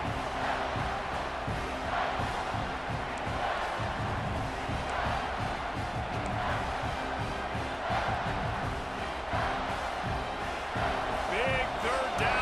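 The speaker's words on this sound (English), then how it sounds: "this crowd is getting behind this defense" Steady roar of a stadium crowd cheering for the defense on a big third down in the red zone in EA Sports College Football 26, continuous and dense, with a commentator talking over it.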